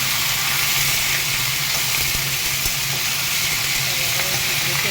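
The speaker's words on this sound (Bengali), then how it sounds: "এটা বেশ ভেজে নিলাম। হাই ফ্লেমে করে ভেজে নিলাম।" Potato, pumpkin and sprouted chickpeas frying over a high flame, giving a steady, dense sizzle and hiss that runs unbroken and fairly loud throughout, with a few faint stirring clicks.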